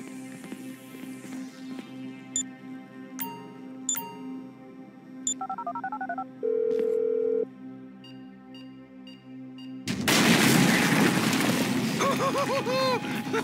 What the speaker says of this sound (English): I'm making the call.